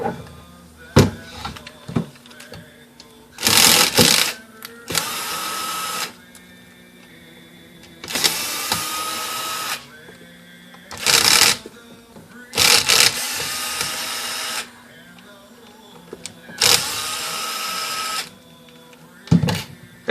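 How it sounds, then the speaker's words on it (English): Repeated bursts of a small electric screwdriver removing the four hinge-cover screws from a Panasonic CF-29 laptop, whirring in roughly one-second runs with quiet clicks and handling noises between them, close up. "There are 4 screws on these hinge covers on the back side of the unit. Those have to be removed."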